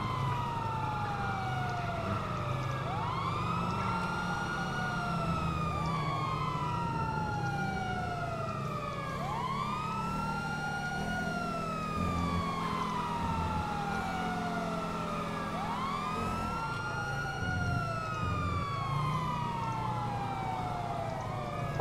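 Several emergency vehicle sirens wail continuously in the GTA V video game, overlapping rising and falling sweeps repeating every couple of seconds over a low engine rumble, steady and fairly loud with no talk.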